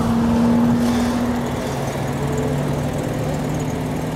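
Heard from inside the cabin, a Mercedes C63 AMG wagon's V8 engine rumbles loud and steady, a dense low drone that holds evenly throughout with no voices.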